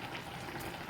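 Carrot halwa simmering in a pot as its water cooks down, a soft continuous bubbling and fizzing that stays steady and fairly quiet throughout.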